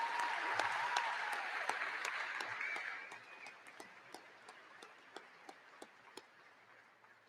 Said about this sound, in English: How about one more round of applause for our amazing musicians?